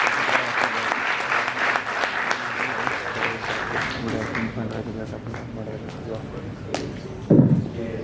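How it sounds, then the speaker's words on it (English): Steady applause from a crowd fills the whole stretch, dense clapping that thins slightly toward the end, with a brief louder thump near the close. "So let's proudly welcome Amey with a big round of applause."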